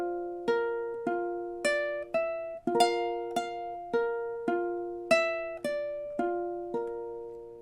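Ukulele playing measures 11 and 12 of a song: a slow, even series of about a dozen plucked chords and notes, each ringing and decaying before the next, clear and close with no voice.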